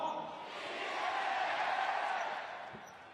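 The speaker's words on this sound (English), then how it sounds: "as the announcer shouts, and he gets the response from the crowd" Basketball arena crowd at a FIBA World Cup qualifier game between China and New Zealand, roaring in a sustained swell that builds and holds steadily loud for a few seconds before easing slightly, with a broad, distant wash of many voices.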